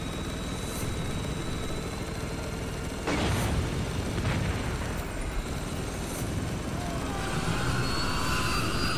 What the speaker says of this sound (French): faut descendre l'hélico!